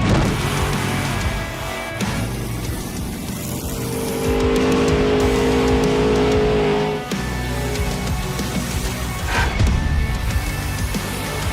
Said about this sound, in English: we are here to break a world record of the most revolutions done in a Monster Jam truck in a donut